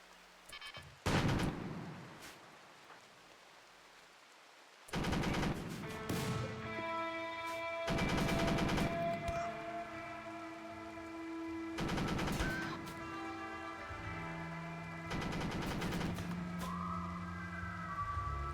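Turret gunfire in the RimWorld video game comes in several long, loud automatic bursts separated by short gaps, mixed with wailing alarm-like tones and a steady electronic hum.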